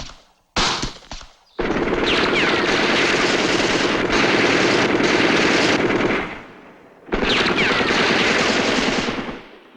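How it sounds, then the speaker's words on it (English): Automatic fire from a Soviet AK-47 rifle, the standard weapon of North Vietnamese soldiers: a few short opening bursts, then a loud sustained stream of rapid shots, a brief lull, and another long close burst. "The Soviet AK-47 rifle, the standard weapon of the North Vietnamese soldier."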